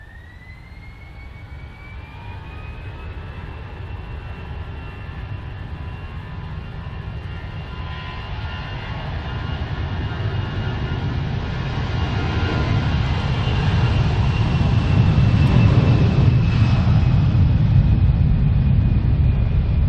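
An Air Malta airliner on its takeoff roll from runway 09 produces a broad jet roar with a rising whine, growing steadily louder and closer over twenty seconds.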